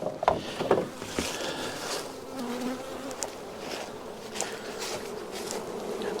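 Honey bees in a hive that senses its queen is gone buzz in a dense, continuous hum up close, with a few sharper passes and faint knocks mixed in.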